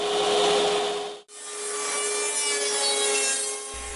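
A saw cuts a wooden clock board in a steady, close rasping sound, with one brief break before it carries on evenly.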